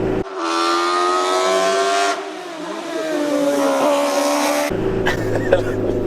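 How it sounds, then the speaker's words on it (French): An older car's engine pulling hard at full throttle in fourth gear as speed climbs, a loud sustained drone with rising harmonics that shifts tone midway, close and continuous, then cuts to a quieter interior near the end. "on est en 4ème, puis au plancher, 60, 65"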